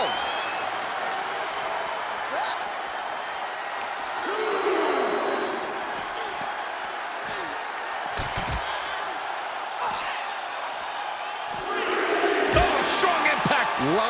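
Video-game wrestling crowd in WWE 2K24 at a Lita vs. Liv Morgan dream match, a steady arena roar that swells into louder cheering with a few thuds, running beneath commentary.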